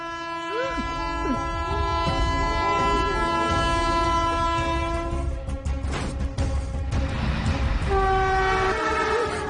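A train rumbles past with a long, loud horn blast that sounds repeatedly, its steady tone layered over clattering wheels and rolling rail noise in a dramatic movie scene.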